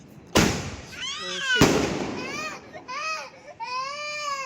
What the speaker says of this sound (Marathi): त्याचं म्हणणं आहे की फटाके नका फोडू